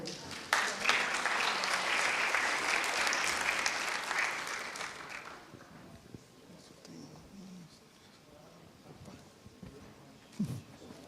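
An audience at a São Paulo conference panel on virtual goods gives a round of applause, steady dense clapping for about five seconds that thins and trails off, with a brief voice near the end.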